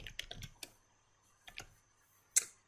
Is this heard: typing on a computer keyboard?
yes